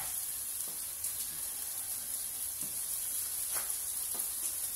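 Meat sizzling in a hot pan during breakfast cooking, a constant soft frying hiss with a few brief faint clicks, fairly quiet and without talk.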